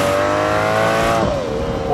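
A 2023 Aston Martin DBS with its V12 engine accelerating hard, a loud close sustained roar rising in pitch, then a brief dip as it shifts and pulls again.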